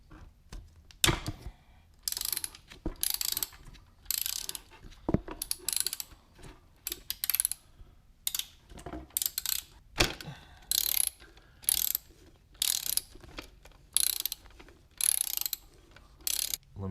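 Hand ratchet loosening radiator bolts on a 2007 GSXR 1000 motorcycle: close, crisp bursts of rapid clicking, repeated about a dozen times in a regular stop-start rhythm, with short pauses between strokes.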